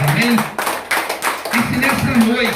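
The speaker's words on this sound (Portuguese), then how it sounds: "Quem pode dar uma salva de palmas para Jesus" A church congregation claps for Jesus during a Portuguese-language worship service. Scattered clapping runs under a voice that keeps talking over it.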